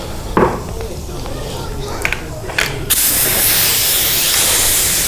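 A Powermate HVLP gravity feed spray gun fires water-based paint in a steady, loud hiss that starts partway through and holds to the end, following a few brief bursts and handling noises near the start.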